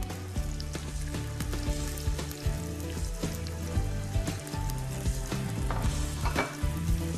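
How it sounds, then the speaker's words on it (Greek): Thinly sliced onion sautéing in a little olive oil, a steady dense sizzle throughout with scattered pops and occasional stirring scrapes, close and fairly loud with no voices. "Ξεκινάμε πρώτα σοτάροντας σε λίγο ελαιόλαδο κρεμμύδι"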